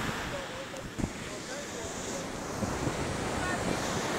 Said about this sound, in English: the waves come and just washes away whatever it is that is on your feet